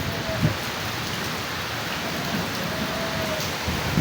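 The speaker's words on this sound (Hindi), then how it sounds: "अब बारिश हो रही थी" Steady rain hisses evenly throughout, with a few louder drips or patters near the start and end.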